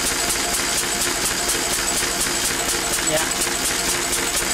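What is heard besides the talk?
Lister D engine running, driving alternator on dyno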